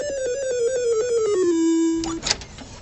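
A single electronic tone, a descending minor-key losing sound from a poker machine, slides steadily downward in pitch and then holds, ending in a brief rattling clatter.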